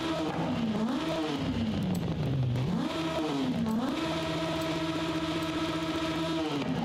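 A Peel P50 fitted with a turbo in Forza Horizon 5 drones and revs up and down repeatedly as gears shift, with a steady buzzy tone between accelerations.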